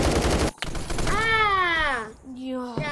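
Bursts of gunfire in a Roblox game crackle loudly for about half a second, then a player speaks over the game audio.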